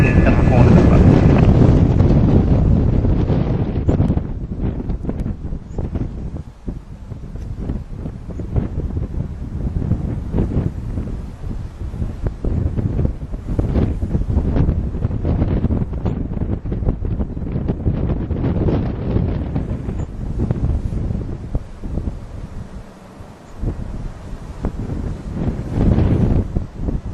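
Strong crosswind buffets the microphone throughout a Virgin Boeing 747-400 landing at Manchester Airport, a loud, steady roar of gusting air with jet and airframe rumble underneath, plus brief speech at the start.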